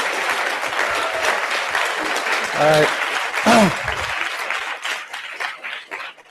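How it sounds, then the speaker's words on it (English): Audience applause at the BonzAI Brawl 2015 tournament, sustained clapping from a crowd filling the room, with a voice calling out over it midway before the applause thins toward the end. "Big round of applause for you guys."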